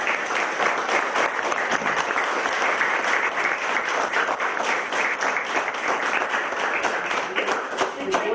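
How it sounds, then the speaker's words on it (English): Sustained round of applause from an audience at a historical society event honoring a 1945 football team, many hands clapping steadily and evenly for several seconds without a break. "I'd love to give them another round of applause."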